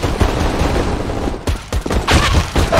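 Glock pistol shots ring out in a CS:GO match on Inferno. Several quick bursts of sharp cracks come in clusters with brief gaps between them, loud and close.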